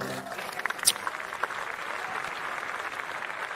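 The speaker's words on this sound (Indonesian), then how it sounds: "mari kita berikan tepuk tangan yang paling meriah untuk iNews Media Group" Audience at an Indonesian stand-up comedy event applauding, a quiet, even wash of clapping heard from a distance, with a few sharper claps near the start.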